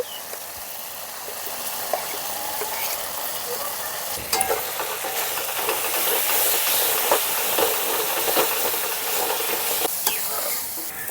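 Ground dried red chilli, cumin and coriander powders sizzle steadily in a pan with melted tomato for a spicy fish curry, a continuous close frying hiss broken by scraping stirs and light utensil knocks.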